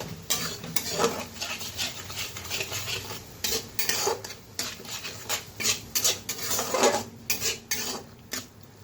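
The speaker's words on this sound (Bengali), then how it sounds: "তো এখানে দিয়ে দেবো স্বাদ মতো লবণ। ভালো মতো মিক্সড করে নিই।" Ridge gourd curry seasoned with salt is stirred in a pan. A utensil scrapes and clatters against the metal in a steady, repeated rhythm, close by with no voices.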